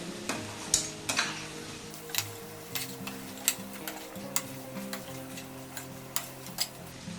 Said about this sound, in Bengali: মটনের পিসগুলো একটু কষে নেব। আবার একটু মশলার সাথে কষে নিতে হবে।